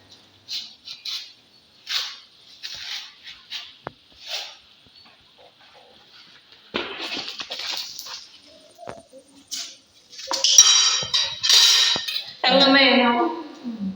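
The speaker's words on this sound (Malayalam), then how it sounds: "എണ്ണയിൽ നിന്ന് കോരിയെടുക്കാം." Fried brinjal (eggplant) slices are lifted from hot oil with a metal utensil, giving irregular clinks and scrapes against the pan, soft at first and then louder and busier, with a brief voice near the end.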